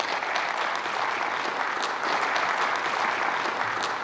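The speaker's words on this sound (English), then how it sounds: "Please give a round of applause to my wife, Rene Caruso." Sustained applause from a conference keynote audience welcoming a speaker's wife to the stage, a dense, steady patter of many hands clapping that holds at an even level throughout without talk.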